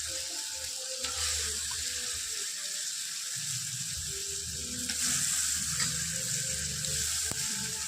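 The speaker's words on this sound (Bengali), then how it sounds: "জলটা ফুটে এসছে, এখন আমি মাংস দিয়ে দেবো।" Chicken pieces go into a pot of boiling water, giving a steady bubbling sizzle and hiss throughout with a few low thumps and rumbles underneath, close and continuous.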